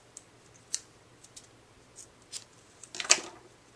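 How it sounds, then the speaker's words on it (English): Scissors snip through ribbon for a handmade card, a few light, close clicks spread apart and then a louder, sharper cut near the end. "I'm going to cut the ribbon in the middle"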